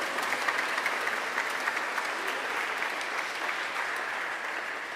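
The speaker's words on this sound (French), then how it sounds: "On les applaudit très fort." A church congregation at Sunday Mass applauds steadily for several seconds, a dense, even patter of many hands clapping at moderate distance.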